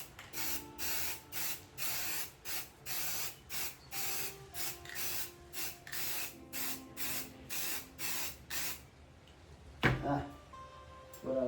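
A spray can lays a second coat of finish on a clock in about a dozen rhythmic, hissing bursts, close and steady, followed by a clatter and a pause.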